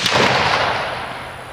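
A single loud, close gunshot from a high-recoil gun fired at a shooting target, with a sharp crack followed by a long rolling decay outdoors.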